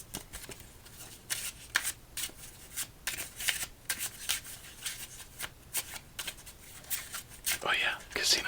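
Playing cards from a deck given a casino shuffle at an ASMR solitaire table, repeated close riffling bursts and soft slides in an uneven rhythm, with quiet whispered talk alongside.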